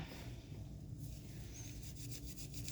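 Fabric with a stain being scrubbed by hand with vinegar, a continuous close rasping rub that quickens into rhythmic strokes near the end, no talk.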